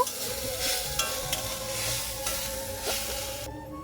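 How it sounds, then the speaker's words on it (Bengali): Freshly grated coconut stirs and scrapes in a hot kadai, giving a steady, close sizzling hiss with brief scraping strokes of the spatula throughout, ending abruptly. "কড়াইয়ের মধ্যে এবার আমি নারকেল কোড়া দিয়ে দিচ্ছি"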